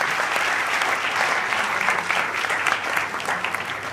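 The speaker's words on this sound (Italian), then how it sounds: "merita un applauso veramente" A room full of people claps steadily for several seconds, a dense, even patter of applause at close range.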